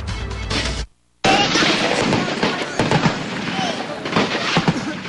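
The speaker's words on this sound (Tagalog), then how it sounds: "Umalingaw-ngaw mga putok ng kanyon sa patuloy na sagupaan ng militar at mga kasapi ng Bangsamoro Islamic Freedom Fighters o BIFF sa Maguindanao" Cannon fire booms during an ongoing clash between the military and Bangsamoro Islamic Freedom Fighters in Maguindanao, with loud, dense blasts and rumbling echoes and a brief silent gap after the first burst.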